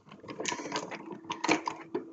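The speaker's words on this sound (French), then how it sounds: "le bruit que vous entendez, c'est ma machine à glaçons" An ice maker machine in a kitchen runs with busy, irregular mechanical clattering and rattling, close and fairly loud, with a stronger burst near the end.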